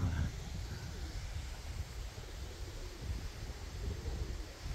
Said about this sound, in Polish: dzisiaj wiatr wieje